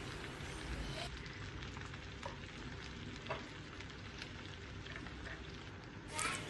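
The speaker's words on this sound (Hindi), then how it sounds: "अब मैं इस ऑयल में 3 मीडियम साइज़ के प्याज काट कर शामिल कर रहा हूँ और इसको मैं लाइट ब्राउन कर लूँगा" Three medium sliced onions fry in hot oil with a steady, dense sizzle and crackle, heard close and fairly quiet, continuous for several seconds, with a brief stirring scrape near the end.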